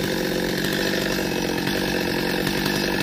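A chainsaw cuts steadily into an oil palm tree, running loud and close at a constant high whine with no pauses or talk.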